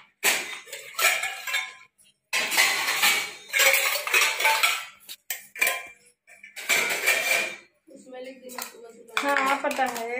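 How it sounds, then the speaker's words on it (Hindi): Plates and cutlery being set out in a home kitchen, with clattering dish and utensil clinks in irregular bursts and pauses, close and fairly loud. Talking can be heard toward the end. "प्लेट निकाल रहे हैं यहाँ से।"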